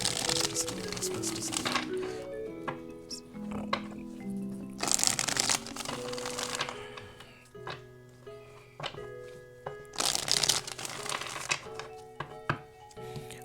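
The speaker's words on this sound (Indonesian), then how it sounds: "Aku akan ambil 4 kartu guys dari deck ini." A deck of tarot cards being shuffled by hand, with repeated riffling bursts and soft taps close by, running steadily with short pauses between rounds and no talk.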